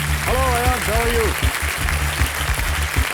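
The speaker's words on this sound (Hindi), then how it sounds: "एक बार फिर जोरदार तालियां बज जाए सब बच्चों के लिए" Loud studio audience applause on the KBC (Kaun Banega Crorepati) quiz show set, a steady wash of clapping through the whole stretch, with a voice and a low musical hum running over it.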